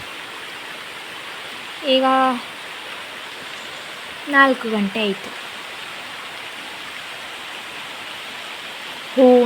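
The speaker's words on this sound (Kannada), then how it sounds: "ಮಧ್ಯಾಹ್ನ ಮೇಲಿಂದ ಮಳೆ." Steady afternoon rain falls outside a home, an even hiss throughout, briefly overlaid by a few short spoken words from a nearby voice.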